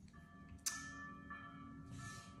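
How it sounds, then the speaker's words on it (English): Church bells from a neighbouring convent in Italy ring out nearby, a bright strike followed by sustained ringing tones, fairly clear against a low background hum. "do you hear the bells in the convent next to us?"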